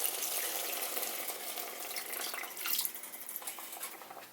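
Water pours into chicken biryani in a pressure cooker, a steady hissing splash that thins into a softer, uneven trickle near the end.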